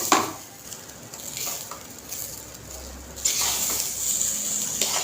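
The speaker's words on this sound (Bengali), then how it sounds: "চালটা যতক্ষণ না হালকা কালার আসছে ততক্ষণ ভাজবো।" Raw rice for polao fries in a pan with ginger-garlic paste, giving a steady soft sizzle broken by scraping stirs, growing louder and brighter partway through, close and with no voices.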